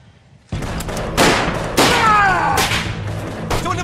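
Battle gunfire in a war film: loud bursts of rifle and machine-gun fire crackle continuously, with sharp reports repeating across the clip and no talking.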